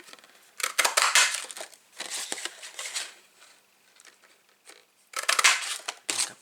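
Starburst craft punch cutting through gold foil paper, heard as several short bursts of crisp crunching and snipping separated by brief pauses.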